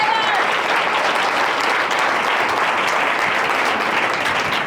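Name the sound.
audience applause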